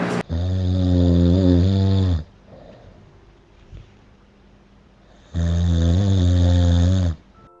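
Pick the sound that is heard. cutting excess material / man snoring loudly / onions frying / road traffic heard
man snoring loudly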